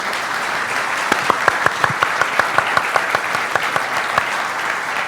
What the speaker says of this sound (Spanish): quiero que le demos un aplauso súper fuerte a Laura y a César